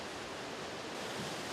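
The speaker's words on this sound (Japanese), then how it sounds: "落差55メートルから勢いよく水が流れ落ちる音と様子から地震滝とも呼ばれています。" Naena Falls, a waterfall with a 55-metre drop, pours hard in a steady, broadband roar of rushing water with no break, even and continuous, heard from a distance with no voices.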